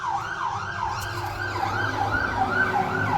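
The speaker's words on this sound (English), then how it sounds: "sounds like an ambulance I think" An ambulance siren wailing outside, its rising and falling tone cycling steadily over a low rumble of traffic, loud enough to fill the background of an indoor electrical job.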